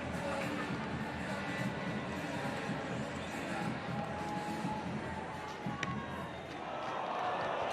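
A stadium crowd at a women's rugby sevens final groans after a missed conversion kick, a broad sustained murmur that swells and fades, with a commentator talking over it.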